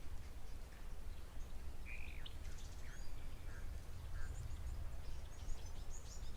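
Birds at a waterhole chirp and call sporadically with short scattered tweets, some faint duck-like quacks among them, over a low steady ambient rumble of wind or distant noise.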